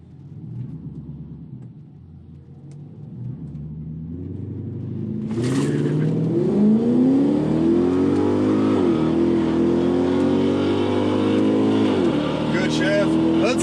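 An Infiniti Q45 car at a drag race idles roughly, then launches and accelerates hard with a loud, rising engine roar that holds through the run, while a person talks over it.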